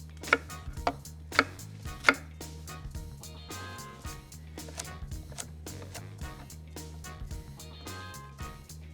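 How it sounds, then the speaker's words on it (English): A knife chops mirepoix vegetables on a cutting board, a few sharp close strikes followed by quieter irregular cuts over a low steady hum. "I'm gonna cut some mirepoix and then we can start our braise."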